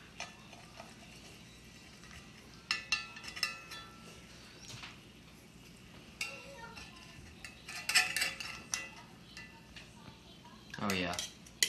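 A knife and utensils scraping and clinking against a plate while slicing a thick-crust meat and jalapeño pizza into small pieces, with irregular close scrapes and a louder rattle near the end.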